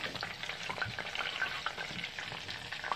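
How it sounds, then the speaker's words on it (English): Quail frying in hot grease, a steady dense sizzle with crackling pops throughout, close and continuous without any voices. "we got these quail all golden brown. About to take them up out that grease"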